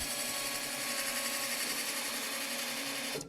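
An LT40 sawmill head raised by its chain drive, heard near the input shaft as a steady, fairly faint mechanical whine and hum that runs evenly for about three seconds before tapering off.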